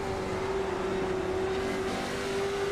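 A race car engine at North Wilkesboro, held at a steady high rev, keeps up a loud continuous drone throughout, with a constant tone that briefly drops away and then returns.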